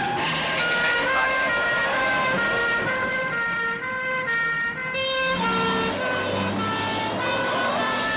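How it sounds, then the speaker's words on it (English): A police car siren wails loudly and continuously, its rising and falling tone close by, with voices talking over it. "Kill the siren."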